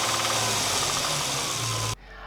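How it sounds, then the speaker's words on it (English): A Nissan 350Z engine running with a suspected loose crank, giving a loud, steady mechanical clatter and hum that cuts off abruptly near the end, leaving a quieter low rumble. "there's a little noise which does not sound very good. Probably it's a loose crank."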